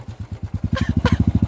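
Motorcycle engines thrum with a fast, even low pulse as bikes ride in a wedding procession rally, the beat quickening and growing louder near the end, with a couple of brief higher clanks over the top.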